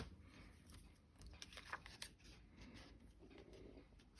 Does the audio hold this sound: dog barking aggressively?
no